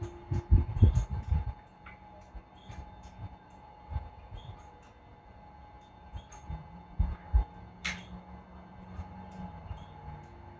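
National Supply Model 12-C band wheel power unit running a pump jack, heard as low, irregular thumping and rumbling with faint mechanical clanks and a soft hum in the background.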